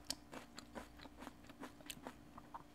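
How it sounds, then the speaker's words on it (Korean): Crisp, crunchy bites of fresh vegetables wrapped with Chinese-style dishes, several sharp crunches in an irregular rhythm, close and fairly quiet, with no talking. "아삭아삭 진짜 좋다."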